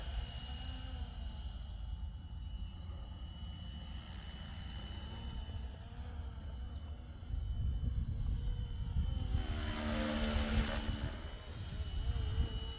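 A FlishRC L7 RC helicopter flies with a steady rotor and motor whine, growing louder and closer after the midpoint, then peaking with a rising high-pitched surge before easing.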